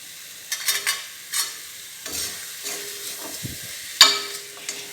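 Garlic fries in a pan for a nalleru chutney while a spoon stirs it. A soft, faint sizzle runs underneath, broken by several brief scraping strokes at irregular intervals.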